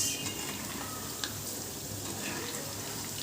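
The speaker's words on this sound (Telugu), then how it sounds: "కొంచెం ఫ్రై అవ్వాలి." Cauliflower gobi pieces frying in hot oil, a steady soft sizzle and hiss running throughout with a few faint pops, fairly quiet and close.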